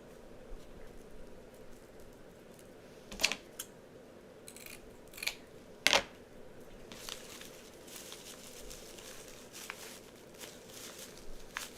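Scissors cutting material at an angle while making a homecoming mum, a few sharp snips spread across the stretch along with faint rustling handling noises, no talk.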